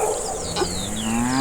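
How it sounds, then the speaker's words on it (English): A donkey brays once in a drawn-out, wavering call, close and fairly loud, with no voices over it. "Donkey."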